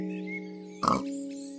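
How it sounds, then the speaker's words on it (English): A short grunting oink from a Minecraft pig cuts in briefly over a soft, steady musical drone. "The humble pig."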